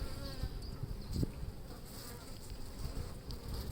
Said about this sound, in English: here you've got a couple of bees tidying up a bit of honey drips that I made there